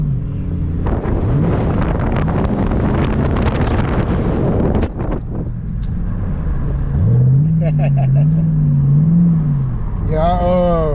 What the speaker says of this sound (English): Here I see a Dodge Charger with some pipes on it.